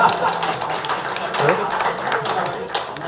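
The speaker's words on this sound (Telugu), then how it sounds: "ఇప్పుడు కొడుతున్నారు ఇక తొందరగా బంద్ చేయమని." Audience applause at a literary speech event at Sahithya Academy, steady clapping from a crowd filling the room, continuous and moderately loud with no pauses.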